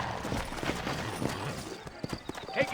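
Horse hooves clip-clop steadily in Red Dead Redemption gameplay, a run of soft rhythmic thuds heard faintly beneath someone talking.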